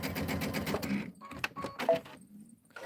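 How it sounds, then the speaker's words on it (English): A sewing machine stitches a scrappy pieced pillow back, a rapid mechanical whirring burst that stops and restarts in short runs with clicks between, close by and without speech. "I'll sew the whole thing"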